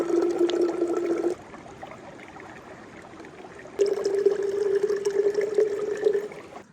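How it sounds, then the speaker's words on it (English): Water trickles and pours at a stream in Big Sur as a bottle is filled and hands are washed, a close splashing flow that drops quieter mid-way, then swells again. "I'm gonna fill up my water and wash up a little bit before I get to camp."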